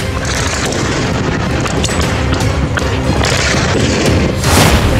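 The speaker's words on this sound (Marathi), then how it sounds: "पाकिस्तानी सैन्याच्या गाडीवर बलोच आर्मीनं गोळीबार केलाय" Loud, continuous roar of gunfire and blasts during an attack on a Pakistani army vehicle in Balochistan, dense rumbling bursts filling the whole stretch with a few sharper booms rising near the end.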